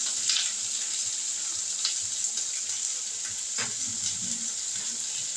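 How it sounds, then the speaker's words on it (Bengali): Chopped onion and green chili frying in oil with cumin, dried red chili and bay leaf, a constant bright hiss with a few soft spoon knocks, close and steady. "এবার ভাজবো, পেঁয়াজটা ভালো করে ভেজে নেবো।"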